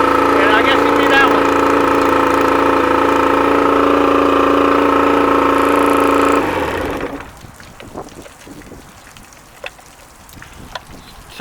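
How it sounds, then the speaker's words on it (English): A Johnson 50 outboard motor running rough on one cylinder, a loud steady droning hum for several seconds that dies away, leaving quiet background with faint scattered clicks. "but it's only running on one cylinder."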